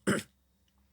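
A single short, sharp allergy cough, close and loud, followed by quiet.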